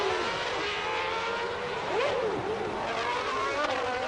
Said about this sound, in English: We could hear the engine rev suddenly go up.